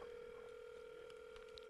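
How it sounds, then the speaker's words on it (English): A steady electronic ringback tone hums continuously at low volume, a flat, unbroken telephone ring signal with faint background hiss. "We're ringing."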